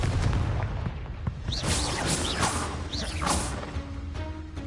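Confringo fire spell blasts in Hogwarts Legacy, a dense run of whooshing, crackling impacts and booms over continuous rumbling combat noise, loud and close with no talk.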